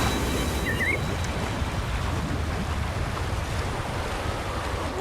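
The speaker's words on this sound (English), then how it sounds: "That's a really big waterfall." A large waterfall in the video game Wuthering Waves, a steady broadband roar of rushing water holding at an even level throughout, with no voices.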